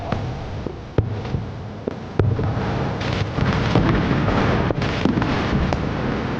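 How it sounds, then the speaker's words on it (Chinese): Fireworks going off in a series of sharp cracks and booms over a continuous crackling roar, the bursts irregular and moderately loud throughout. "咱们能看到最美的烟火"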